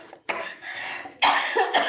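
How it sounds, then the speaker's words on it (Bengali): A person coughing at close range, two rough bursts and a fainter third, each short and harsh with brief pauses between. "আসলে আমার কাশি উঠে গো"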